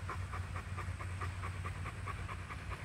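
A rescued livestock guardian dog pants rapidly and steadily up close, quick rhythmic breaths continuing throughout over a low rumbling background.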